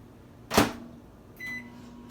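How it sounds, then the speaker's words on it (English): A microwave door thumps shut, then a single electronic beep sounds over a faint, steady low hum as water heats inside. "I'm gonna warm the water inside the microwave a little bit."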